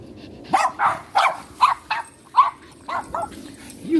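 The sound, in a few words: dog barking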